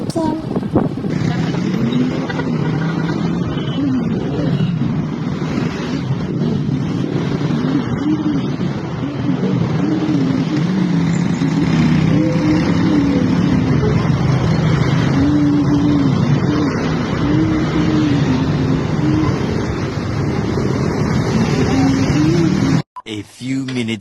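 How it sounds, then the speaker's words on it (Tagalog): Dense, congested highway traffic rumbles continuously for over twenty seconds, engines droning and vehicles passing close by in a loud steady wash, with voices faintly mixed in, before a sudden cut near the end. "nandito na naman kami sa highway kung saan laging traffic"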